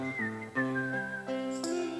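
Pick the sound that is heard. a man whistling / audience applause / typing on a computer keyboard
a man whistling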